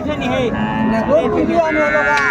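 A cow with a calf lowing at Raniganj cattle market, with several loud, close moos rising and falling over the din of the crowded market.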